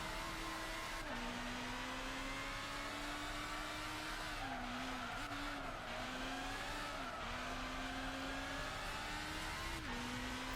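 Race car engine in Gran Turismo 6 during a Super GT500 championship, droning steadily with pitch shifts through gear changes and tire skidding, loud and continuous with no talk.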